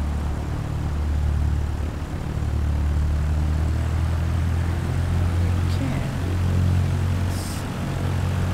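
Aircraft engine in Microsoft Flight Simulator 2020 throttles up for takeoff at Penang, a steady propeller drone that swells louder and then holds, with a few faint clicks over it.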